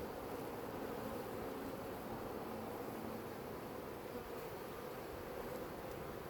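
Honey bee swarm fanning at the front of a hive box, a dense, steady buzzing hum that carries on unbroken and fairly loud throughout, with no voices.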